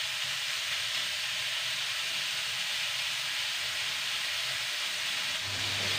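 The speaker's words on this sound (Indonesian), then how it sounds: "Kita goreng ayamnya ini jangan terburu-buru ya" Steady, close sizzling hiss of marinated chicken frying in hot oil, continuous and unbroken throughout, with a faint low hum near the end.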